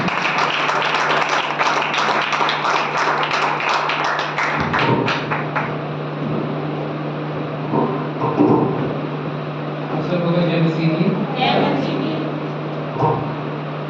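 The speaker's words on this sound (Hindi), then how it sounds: "ताली बजाकर स्वागत करेंगे" A church congregation claps to welcome Pastor Sandeep, with dense, fast applause for about four and a half seconds that then stops, leaving a steady hum and scattered faint taps.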